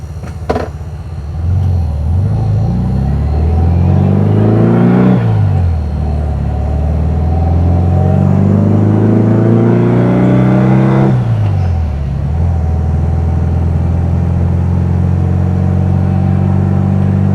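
Air-cooled engine of a 1972 VW Beetle with dual carburetors starts with a click and runs loud and close, revving up and settling back twice in long sweeping swells over a steady rumbling idle.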